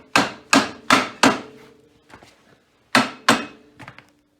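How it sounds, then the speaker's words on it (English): A hammer tapping a rear wheel bearing into its race on a 2015 Honda Rancher 420 FA ATV: four sharp metallic knocks in quick succession, a couple of light taps, then two more solid strikes, close and loud. "This is going to go slide into the bearing, inside the bearing race. And I'm going to tap that in place."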